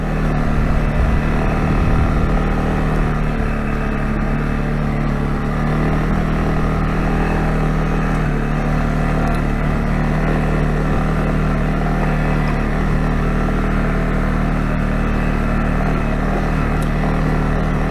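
CFMOTO CFORCE 625 L ATV from 2022 climbing a steep 30-40 degree hill, its engine a loud, continuous droning roar held steady throughout with no voices.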